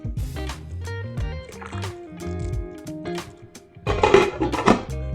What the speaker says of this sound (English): then 1 can of Guinness. Just gonna give that a good stir.